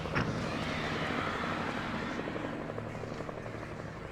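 A helicopter in the video game Alan Wake gives a steady rotor chop and engine rumble that stays fairly constant, then eases slightly toward the end, with no talk over it.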